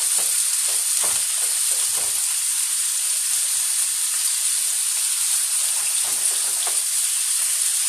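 Shrimp fried rice sizzles steadily in a pan rather than a wok, a continuous loud hiss with faint stirring clicks and scrapes scattered through it, with no voices.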